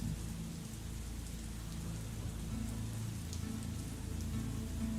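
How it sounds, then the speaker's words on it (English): Rain ambience playing as a background effect during a Pathfinder tabletop role-play session, a steady soft hiss of rainfall with a low rumbling undertone, constant and unbroken, with no voices. "Which fucking sucks because it's raining."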